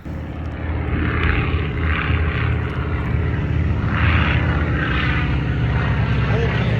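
Propeller airplane flying overhead, a loud steady engine drone with pulsing swells lasting several seconds, with people talking underneath.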